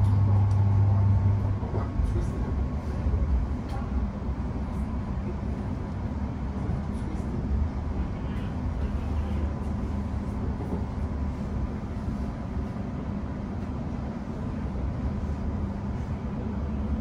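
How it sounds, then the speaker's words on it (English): A London Overground train to Enfield Town rolls along with a steady low rumble and hum from inside the carriage, a sustained tone fading early, then constant running noise. "This is the train to Enfield Town."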